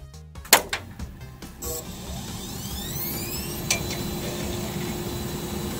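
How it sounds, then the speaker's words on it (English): An old computer hard disk spinning up inside a PC fitted with an AGP HD 3850 graphics card, starting with a few sharp mechanical clicks and knocks, then settling into a steady whirring hum with a rising tone, close and moderately loud. "actually what you're hearing is the old hard disk spinning up"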